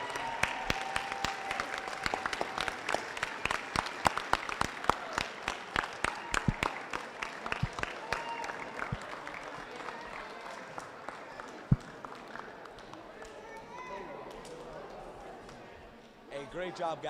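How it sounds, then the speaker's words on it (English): Crowd applause fills the gym at a 2025 FTC robotics qualifier, with steady clapping and sharp individual claps for the first half before it thins into crowd murmur and voices toward the end. "Let's give a big round of applause to Alliance 4, who made it all the way to the finals."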